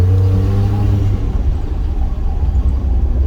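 A pickup truck fitted with a Corsa exhaust revs up, its loud, deep engine rumble rising then settling into a steady throaty drone, close and dominant with no talk.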